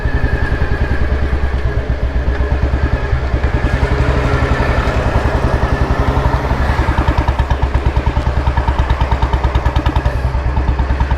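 A restored Royal Enfield Bullet with the cast-iron C engine thumps along on the road, its steady single-cylinder beat loud and continuous with a metallic clatter underneath.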